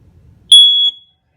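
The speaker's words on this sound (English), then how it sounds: "So the last thing I think I gotta show you would be your smoke detector" Smoke detector in a 2022 Wildwood Lodge 353 FLFB RV sounding a single loud, shrill electronic beep of about half a second during a test, breaking in over quiet room noise and then cutting off.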